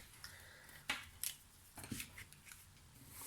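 Scissors cut vintage paper for a Ferrero Rocher rectangle gift box, giving a few quiet, close, irregular snips against near silence.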